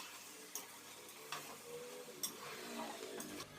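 Yogurt, salt and red chili powder being stirred into chicken for yakhni pulao, a faint wet scraping and sizzle in a pan with a few sharp spoon clicks against the pot, no voices.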